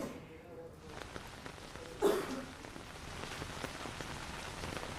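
Heavy monsoon rain falls in Jaipur, a steady dense hiss of drops pattering on surfaces throughout, with one brief louder splash or gust in the middle and no talk.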